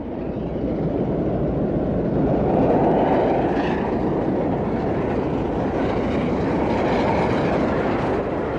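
LNER Peppercorn class A2 steam locomotive 60532 Blue Peter, a British Pacific, passes in a loud, continuous roar of rumbling wheels and rolling stock that stays dense and steady throughout.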